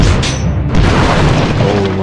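A cannon is destroyed during a Clash of Clans base attack, giving a loud, heavy boom with crashing debris that fills the short moment.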